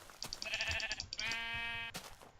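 Minecraft sheep bleating in a video game, a few short wavering bleats then one longer drawn-out bleat, clear and close with no talk over them.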